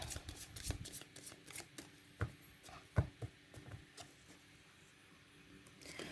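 A deck of tarot cards is shuffled by hand, a soft, close riffling patter with scattered small snaps, quiet and without talk.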